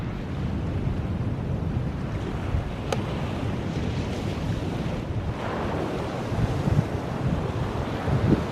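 Ocean waves rolling in at Bean Hollow State Beach as the tide rises, a continuous loud wash of surf mixed with wind buffeting the microphone, steady throughout with no voices.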